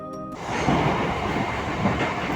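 A train bound for Gede, near the India–Bangladesh border, rumbles along steadily on its rails, a dense continuous roar with a brief tonal whine at the very start, fairly loud and close.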